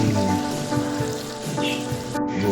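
Meat frying in its own rendered fat for a bread filling gives a continuous crackling sizzle like light rain, steady and close with no talk.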